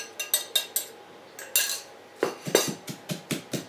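Roasted chili, shallot and garlic are pounded in a mortar, with a run of sharp, close, irregular knocks followed by heavier thuds.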